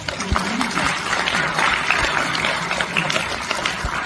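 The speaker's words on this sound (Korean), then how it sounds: "이 어른을 위해서도 우리가 박수 한번 쳐줍시다." Audience applause at a Korean gathering honoring an elder, dense continuous clapping from a crowd at moderate volume, steady throughout the few seconds.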